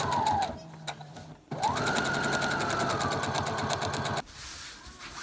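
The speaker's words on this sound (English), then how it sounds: "you are sewing in the join, and that, as I say, is what they call stitching in the ditch" A sewing machine stitches in the ditch while quilting, a close, steady mechanical whir in a short run and then a longer one, stopping abruptly near the end.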